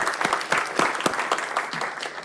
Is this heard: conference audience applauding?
yes